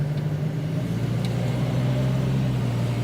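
Volvo 240 with an AW70 automatic transmission driving along, a steady engine drone from inside the car whose pitch dips slightly as it shifts gears.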